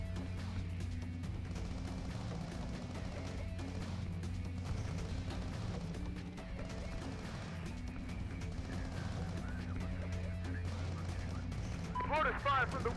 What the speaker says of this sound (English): Mortars fire from the west.